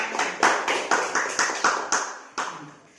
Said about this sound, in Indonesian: Kita tepuk tangan untuk Ananda Lima.